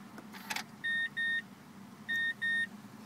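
Four short, clear electronic beeps in two pairs from a 2010 Mazda 3 as its push-to-start button puts the car into accessory mode; fairly quiet and close inside the cabin, after a brief rustle and with no voices.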